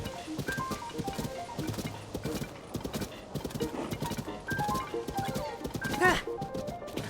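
Horse hooves clip-clop steadily in the video game The Legend of Zelda: Tears of the Kingdom, a brisk rhythmic trot with a brief whinny, playing under a person talking.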